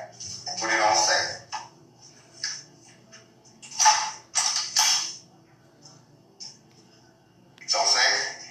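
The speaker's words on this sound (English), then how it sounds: "Pull that charger handle back and put it on safe." A rifle's charging handle is pulled back and its safety engaged, giving several sharp metallic clacks and scraping mechanical rattles in bursts, close by, separated by quiet gaps.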